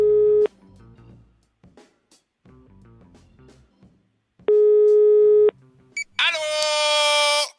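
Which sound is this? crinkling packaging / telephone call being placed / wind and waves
telephone call being placed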